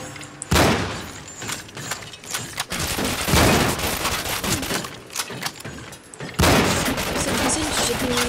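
Dense gunfire from the video game Cryostasis, loud bursts of shots and booming fire crowding most of the clip, with a short lull near the middle before another heavy volley.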